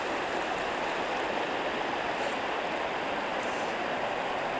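Bradley Creek in the Smokies at Smokemont flows past in a steady, even rush of water, moderately loud and continuous with no voices over it.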